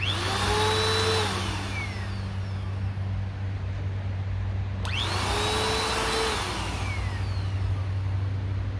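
A 2017 Bissell Powerforce Compact Model 2112 upright vacuum, a curbside find being refurbished, runs steadily with a loud continuous motor whine and airy roar; the pitch sweeps up at the start, dips around midway, then spins back up and holds.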